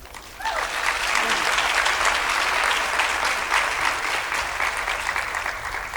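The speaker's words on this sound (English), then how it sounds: "graduates, I request you to applaud your parents, partners, and others who had supported you during your studies" Graduates at a faculty graduation ceremony applaud their parents and supporters, a dense, steady wash of clapping from a large crowd that swells in at once and holds for several seconds.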